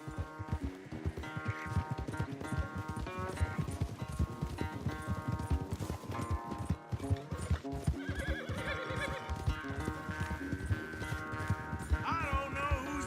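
A horse gallops at a rapid, steady clip-clop rhythm in Red Dead Redemption during a race, with loud neighs and whinnies rising over the hoofbeats and dramatic game music playing throughout.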